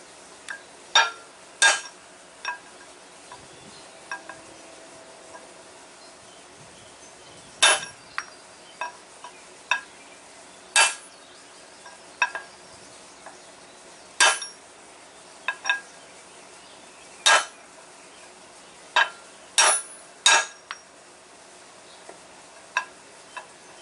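Sharp metallic hammer blows drive a socket onto the outer race of a pilot bearing during a big-truck clutch job, landing as irregular, loud, ringing strikes spaced a second or two apart in a quiet shop.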